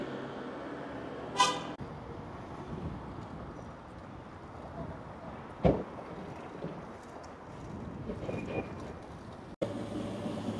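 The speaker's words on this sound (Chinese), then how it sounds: "城市里面就应该禁止鸣放喇叭哈，禁止鸣笛，实在太吵" Vehicle horns toot on a busy city street by a small farmers' market, with short blasts at scattered moments over steady traffic and wind noise.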